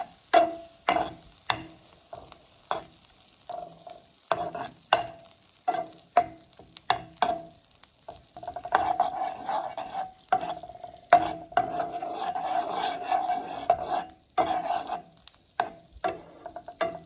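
Shrimp cooking in melted butter in a pan on a stovetop: repeated sharp scrapes and clinks of stirring, then a denser sizzling stretch mid-way, all close and without any voices.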